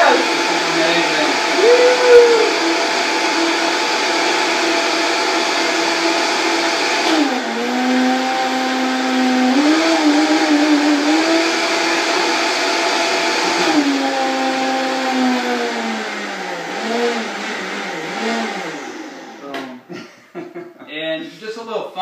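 Blender whirring loudly as it mixes a reishi cappuccino, a steady, close motor roar whose pitch dips and shifts as the load changes before spinning down near the end.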